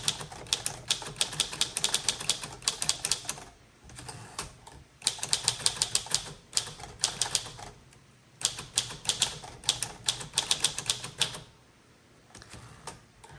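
Rapid keystrokes clatter from a 1935 Corona Silent typewriter, coming in dense bursts of several seconds separated by short pauses, close and crisp with no voices.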